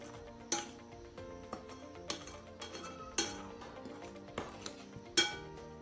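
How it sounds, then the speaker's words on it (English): Cookie batter being mixed in a bowl, with repeated clinks and scrapes of a utensil against the bowl at an uneven rhythm, close and moderately quiet, no talking. "As you continue to mix, ensure you've scraped off the sides."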